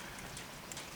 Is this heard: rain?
yes